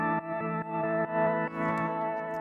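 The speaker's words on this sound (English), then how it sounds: "It's like an organ kind of sound" Organ-like synth preset from an effects plugin, sustained chords with a buzzy, slightly distorted edge, moderately quiet, shifting to new chords every half second or so with no voices.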